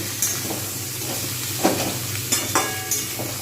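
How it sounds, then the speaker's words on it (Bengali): Mixed vegetables with salt frying in a pan, a steady close hiss of sizzling with a few short scraping stirs and clinks scattered over the top. "নেড়ে নেব"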